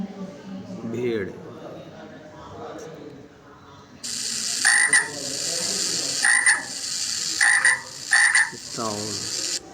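A frog croaks in a series of loud, rattling bursts, four or five close together, heard near and clear after a stretch of speech.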